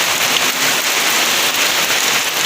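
Heavy typhoon rain pours down outside a house with a flooded yard, a dense, loud, unbroken hiss of drops on surfaces that fills the whole clip with no voices.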